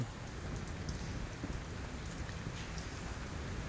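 Steady rain patters on a cement walkway outdoors, a dense, even hiss of drops continuing throughout with no pauses and no voices.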